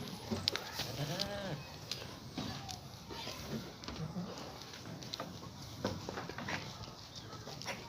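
A milking goat for sale bleats in short calls at a livestock sale, with other animal and bird sounds and some background talk around it.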